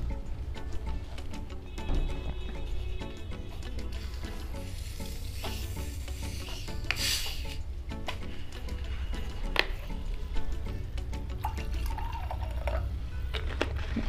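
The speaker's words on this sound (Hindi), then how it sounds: "तो गाइस अब इसमें मैं सोडा और पानी ऐड करता हूं।" Soda and water poured into a glass of Royal Stag whisky, a steady close fizzing and trickling hiss running throughout with small clinks and drips, no talk.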